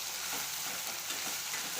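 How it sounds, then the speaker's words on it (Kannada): Eggplant pieces frying in hot oil make a steady, close sizzle with soft crackling and faint stirring, no voices. "ಸರಿಯಾಗಿ ಇದನ್ನು ಎಣ್ಣೆ ಒಳಗೆ ಹಾಕಿ ಹುರ್ಕೊಳಕತ್ತೀನಿ."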